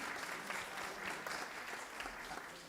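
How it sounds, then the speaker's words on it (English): Audience at a seminar on intergenerational assets and finances gives a round of applause, a steady wash of many hands clapping at moderate distance, continuous for a few seconds without talk. "Could we just give them a round of applause?"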